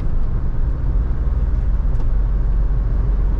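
Mahindra Scorpio S11 SUV cruising on a highway at about 120 km/h in sixth gear, heard from inside as a loud, steady, low road-and-engine rumble with no talking.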